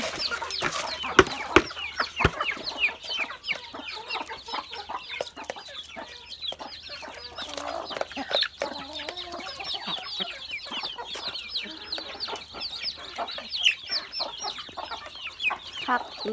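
Chickens being fed rice cluck busily close by, a dense run of overlapping clucks and sharp pecking or scratching taps throughout, with no talking.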